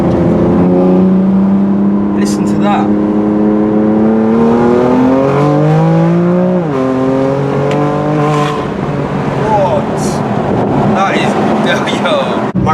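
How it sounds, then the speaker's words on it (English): A 565 bhp BMW M4 with a very loud exhaust in sport mode, its engine note rising and falling through steady revs with wind buffeting the microphone, while people talk over it close by. "Just want to hear some pops and bangs."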